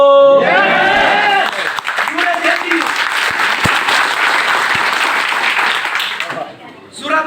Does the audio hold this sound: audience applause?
yes